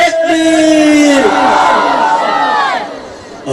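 A large crowd at a naat gathering answers a takbir call with one loud, unified chant that swells and then fades over a few seconds.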